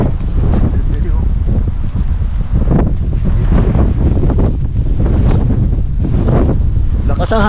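Strong wind buffets the microphone on a foggy mountainside at Mt. Olis in Atok, Benguet, a loud continuous roar with gusts, while people talk briefly over it.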